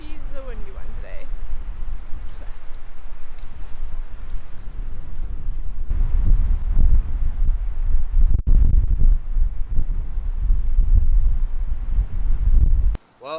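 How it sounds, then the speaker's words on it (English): Strong wind gusting by a lake during a paddling trip: loud, low buffeting roar across the microphone that surges and drops in irregular gusts, with a voice briefly heard at the start before the rumble takes over. "it's crazy windy"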